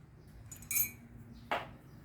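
A knife cuts pork in two short, close bursts, a bright metallic scrape followed by a sharper clinking stroke, over a quiet background.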